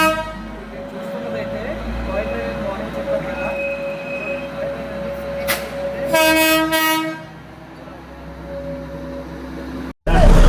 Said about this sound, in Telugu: ఇదంతా కూడా బొగ్గుతో నడిచేటటువంటి స్ట్రీమ్ ఇంజిన్.